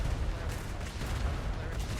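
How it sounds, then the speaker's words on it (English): Ship's guns fire in a dense, continuous rumbling barrage during a naval battle, the low booms overlapping into a steady roar with a voice talking faintly underneath. "Keep firing, keep firing."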